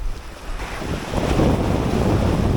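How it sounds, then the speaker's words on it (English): Rough sea surf crashes and churns along the Jamaican shore after Hurricane Beryl, amid strong currents, with heavy wind buffeting the microphone; the wash swells louder and stays dense and continuous, with no voices. "The water's too rough here."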